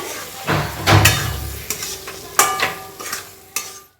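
Fish head and boiled cabbage are sautéed in spices, with a spoon scraping and knocking against the pan in irregular, close strokes over a soft sizzle and no voices.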